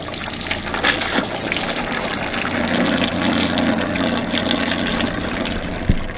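Antifreeze draining out of a low point drain, a steady, dense gush and splash of liquid running continuously at close range with no talk over it.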